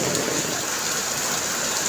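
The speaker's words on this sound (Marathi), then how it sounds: "बघा पाऊस पडत आहे पाऊस काय थांबायचं नाव घेणार" Steady rain falls near a dug-up road under construction, a dense continuous hiss with no pauses and no voices.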